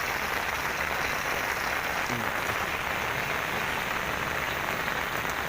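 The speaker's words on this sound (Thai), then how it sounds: "เสียงน้ำจากตรงโน้นมาเนาะ" Steady, dense rush of rainwater pouring from a pipe outlet amid falling rain, continuous and fairly loud with no voices.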